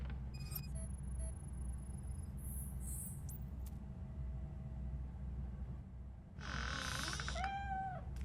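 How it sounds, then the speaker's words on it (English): A cat in RoboCop: Rogue City gives a clear, wavering meow near the end after quiet ambient game hum and a few faint electronic tones; no talk. "The cat is fine."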